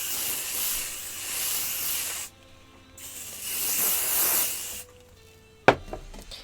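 Hairspray hissing from an aerosol can onto a cosplay wig in two long bursts separated by a short pause, followed by a brief clatter and quiet handling noise.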